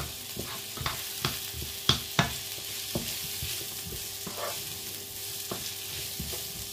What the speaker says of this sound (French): On fait revenir nos petits oignons.